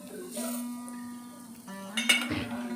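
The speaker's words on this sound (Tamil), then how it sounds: "இப்போ கடலை பருப்பு போடுறேன் அடுத்தது தனியா போடுறேன்" Chana dal and coriander seeds are tipped into a pan for dry roasting, with light metallic clinks and a rattling scrape of a spoon against the pan. The sound is close and fairly quiet.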